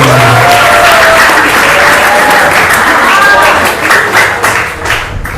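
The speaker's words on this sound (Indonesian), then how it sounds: "beri tepuk tangan yang meriah" Loud, sustained applause from an audience at an open exam ceremony of an Islamic madrasah aliyah boarding school, dense clapping with a few whoops and shouts mixed in, tapering slightly near the end.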